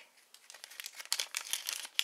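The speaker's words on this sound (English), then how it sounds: "Okay, we'll open this sticker pack." A plastic sticker pack wrapper being opened up close, a quiet series of crisp crinkles and small tearing sounds that grow busier and louder toward the end, with no talking.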